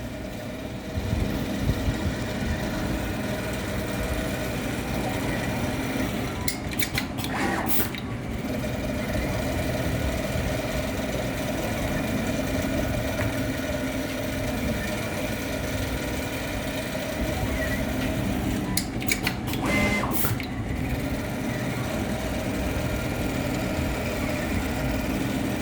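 A PS800 industrial sewing machine runs steadily through the whole stretch, giving a continuous mid-pitched motor hum with a faint vibration. Two short clattering bursts break in partway through, and there is no speech.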